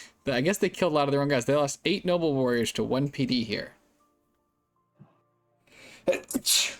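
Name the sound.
sneeze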